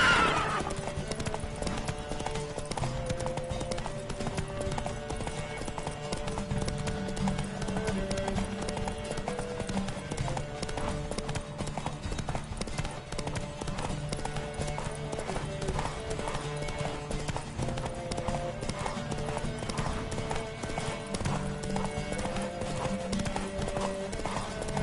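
Steady clip-clop of galloping horse hooves in a horse race in a video game, with occasional horse whinnies, set against a continuous musical backdrop, loud and close throughout.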